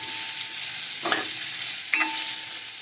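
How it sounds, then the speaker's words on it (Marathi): Red pumpkin sizzles steadily in hot oil in a pan, with two brief scraping stirs of a spoon about a second apart, close and moderately loud with no talking. "आता यात आपण आपले लाल भोपळा घालून घेऊया."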